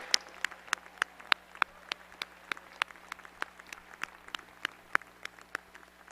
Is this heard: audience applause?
yes